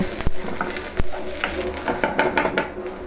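Fried rice being stirred with onions in a pan, giving close scraping and clinking of a utensil against the pan over a soft sizzle, with irregular strokes and no talk.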